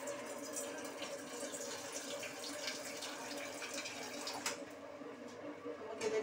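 Water pours steadily into a bowl in a kitchen, a quiet continuous rushing splash that runs throughout and ends with a brief clink.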